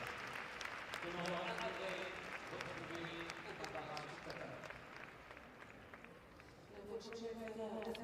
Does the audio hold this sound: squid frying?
no